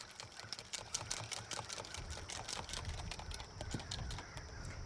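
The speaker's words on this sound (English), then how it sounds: "We're going to whisk all of that together." Rapid, regular clicking of a whisk against a bowl, beating a steak marinade together; steady metallic ticks repeat throughout at close range with no talking.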